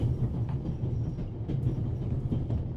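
A train runs along in the game The Raven Remastered, a steady rumbling clatter of wheels on track with faint rhythmic clicks, heard up close and continuous with no voices.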